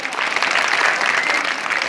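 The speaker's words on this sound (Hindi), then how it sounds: "एक साथ जोरदार तालियां।" An audience at a school-style stage programme claps loudly and continuously in unison for children who have just performed, a full, even burst of applause with no talking.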